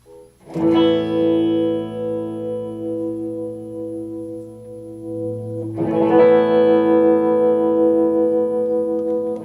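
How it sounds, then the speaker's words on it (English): An electric guitar plays through a Henry SRT+ amplifier with tremolo and no reverb: two strummed chords, each left to ring and sustain for several seconds. "It has a tone control. We're not going to use the reverb."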